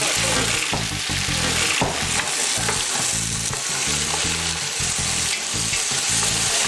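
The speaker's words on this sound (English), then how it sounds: "tossing in these prawns and just watch as they turn pink" Tiger prawns fry with garlic and chilli in a hot pan, giving a loud continuous sizzle with rhythmic stirring and tossing scrapes, close up and without talk.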